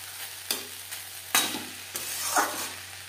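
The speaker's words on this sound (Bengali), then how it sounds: "গ্যাসের ফ্লেমটাকে মিডিয়ামে করে দিয়ে 1-2 মিনিট নাড়াচাড়া করে নেব।" A spoon scrapes through cauliflower frying over a medium flame, several soft stirring strokes over a steady low sizzle, close and fairly quiet.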